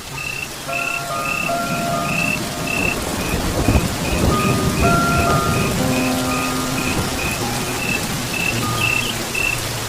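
Steady heavy rain hisses throughout, with a faint high whistle-like tone repeating and scattered clatter in the mix.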